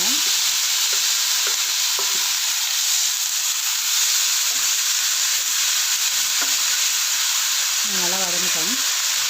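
Chopped banana flower frying with onions and asafoetida in a pan for poriyal, a loud steady sizzle broken by scattered stirring scrapes, with a brief voice near the end.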